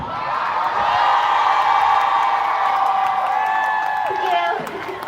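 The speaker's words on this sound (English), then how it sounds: "Can we get one more cheer up here?" A loud crowd at the Houston women's march cheers, whoops and claps steadily for about five seconds, a dense, sustained roar that swells and then eases toward the end.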